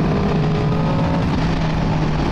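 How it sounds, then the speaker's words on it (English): A 2023 Yamaha MT10 motorcycle engine runs loud and close, with a steady, throaty drone that carries through the whole short stretch and has no voices over it. "The sound of this is one of the best sounding bikes I've ever listened to"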